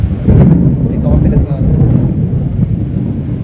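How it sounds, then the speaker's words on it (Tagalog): Deep rolling thunder rumbles loud and close through a sudden downpour at a clubhouse, the low roar sustained for several seconds with rain and wind noise mixed in. "ayan, kumukulog na."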